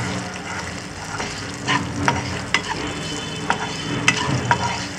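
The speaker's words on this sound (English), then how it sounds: "I'm adding some green chilies. Saute them for some few seconds." Ginger and green chilies sautéing in a pan with steady sizzling oil, punctuated by several sharp scraping and tapping strokes of a spatula stirring against the pan.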